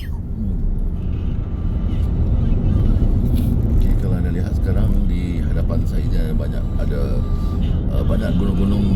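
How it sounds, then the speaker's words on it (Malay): Cars pass slowly along a road in Malaysia near the mountains bordering Thailand, a continuous loud rumble of traffic moving close by while someone talks over it. "Santai-santai je dia bawa kereta."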